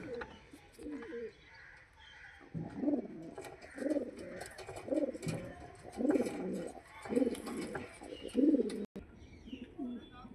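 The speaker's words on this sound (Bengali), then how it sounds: "এটা নর পায়রা।" Male pigeons coo in low, rounded repeated phrases from about the third second onward, close and clear, with faint chirps and background noise around them.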